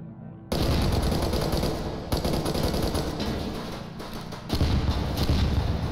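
Continuous video-game gunfire with tracer rounds, dense automatic bursts roaring loud and close for most of the clip, with brief dips before each new volley resumes.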